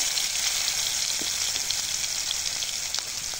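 Two split dried red chilies and three or four crushed cloves of local garlic hit hot oil for a pumpkin-greens rohu fish curry, crackling in a steady, close sizzle with scattered pops and no speech.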